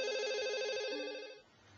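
A telephone rings with a warbling electronic trill in one loud burst of about a second and a half, then cuts off, with no speech.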